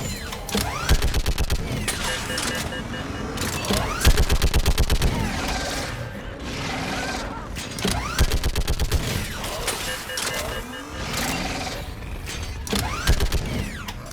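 Sustained automatic gunfire rattles in dense bursts through a Mass Effect 3 Legendary Edition firefight on a bridge, with mechanical clanks and creaks between volleys and no talking.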